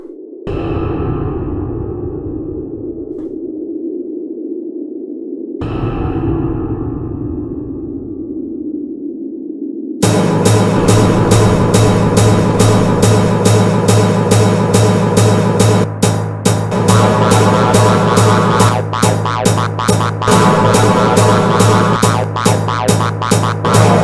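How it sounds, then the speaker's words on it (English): A sound effect played back in the Godot game engine with reverb switched on and off, first two decaying tones with long tails and silent gaps, then a dense, loud, continuous pulsing texture for the rest. "as I was turning off and on the reverb effect, you could actually hear the sound changing from being reverbed to"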